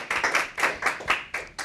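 Audience applause for a veterinary team at a charity gala, rising in repeated surges of dense clapping across the short stretch, fairly loud and without speech over it.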